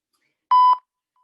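A workout interval timer gives one short electronic beep, clear and alone against silence.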